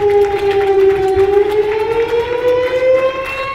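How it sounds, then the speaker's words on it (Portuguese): A civil defense siren wails steadily, its tone slowly rising over a few seconds, loud and sustained with no voices, sounding at about 1:30 a.m. at a memorial for the Kiss nightclub fire victims. "ouviram o toque de uma sirene"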